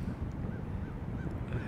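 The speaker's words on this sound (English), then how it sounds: "They appear to be geese. Up in the sky." Faint geese honk a few times from high overhead, the calls spaced out and distant over a steady low wind rumble.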